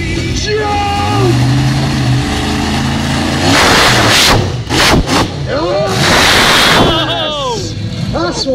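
SwampThing monster truck engine revs hard in an arena during a jump, a loud roaring surge over crowd noise and speech, with sharp bursts midway and sweeping pitch rises near the end.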